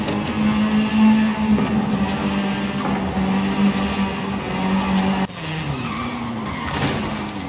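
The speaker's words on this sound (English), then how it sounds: "That train is quicker than you think." Train running along canyon tracks in the Forza Horizon 5 racing game, a steady loud rumble with a sustained low tone and engine drone throughout, shifting in character partway through.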